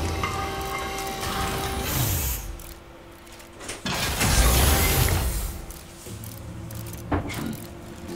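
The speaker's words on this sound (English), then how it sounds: "Oh, that's a washing machine." A washing machine running in a video game office setting makes a loud mechanical churning of whirring, ratcheting and gear-like clanks, with rising and falling motor drones and occasional sharp knocks.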